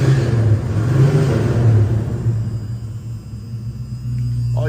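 A 1979 Chevrolet Camaro V8 idling at a car show, a steady low rumble that swells slightly and eases off, heard fairly close with no talking.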